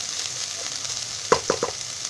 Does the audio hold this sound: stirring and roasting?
yes